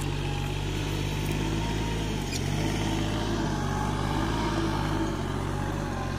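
A Kubota L36 small tractor with a rotary tiller runs in a wet field, its diesel engine droning in a steady low, continuous rumble close by, with no talk over it.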